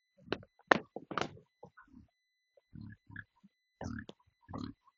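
Little pigs grunting and squealing at feeding time after grain water is poured, a series of short, close oinks coming in irregular bursts with quiet gaps between them.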